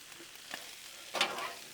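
Shrimp, sausage and fresh spinach sizzle on a Blackstone griddle, a soft steady frying hiss that swells briefly as the food is stirred and turned.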